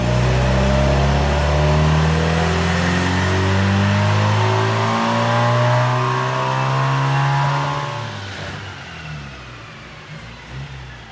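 A 1725cc inline-four Sunbeam Alpine engine revs hard on a dynamometer, a loud steady roar rising in pitch through the run, then easing off near the end.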